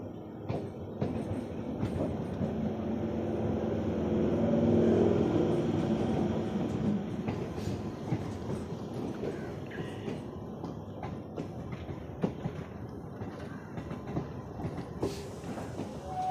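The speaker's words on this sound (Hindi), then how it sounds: "दोस्तों हमारी ट्रेन आ चुकी है, देख लीजिए।" The Shaktinagar–Varanasi Intercity Express pulls in at a station, a continuous loud rumble of rolling railcars with scattered clicks and clatter of wheels over rail joints, swelling midway and holding steady to the end.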